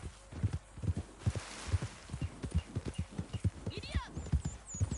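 Horse hooves clip-clop in a steady walking rhythm while riding in a PS4 video game, close and fairly quiet, with a brief whinny-like sound near the end.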